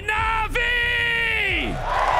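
Esports arena crowd at a Counter-Strike grand final in Rotterdam roaring and whooping in response to a prompt, a loud sustained mass of voices with rising and falling tones over about two seconds.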